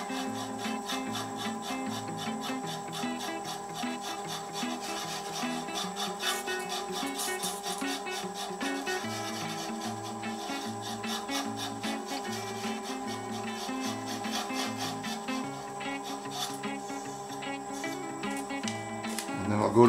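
A bottle lid is hand-sanded with 280 grit sandpaper, producing close, repetitive scratchy rubbing strokes in a steady back-and-forth rhythm, with a faint tonal background underneath.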